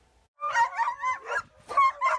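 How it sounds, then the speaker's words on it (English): Rescued dogs caged at a South Korean dog meat farm, heard as a few close, loud barks and yelps in quick bursts with short gaps between them. "Cage after cage filled with barking dogs"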